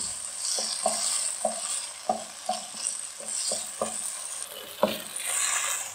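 Cornflour is stirred into chicken and vegetable spaghetti in a hot pan: a soft background sizzle under a run of distinct, rhythmic spoon scrapes and knocks, close and unaccompanied by speech.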